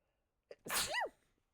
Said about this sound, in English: He's so scared he sneezed.